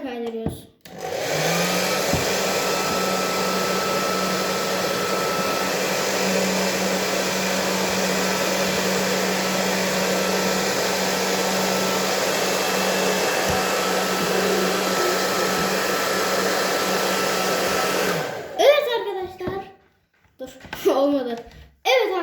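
A handheld hair dryer runs steadily for about eighteen seconds, a loud continuous whoosh with a low motor hum, during hair styling at home, then cuts off and a voice speaks briefly.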